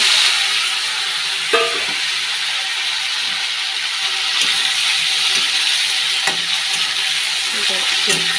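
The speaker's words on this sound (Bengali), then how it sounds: "ভেজে নিই ভালো করে।" Boiled papaya frying in a pan, with a steady broadband sizzle throughout and a few short clinks and scrapes from stirring.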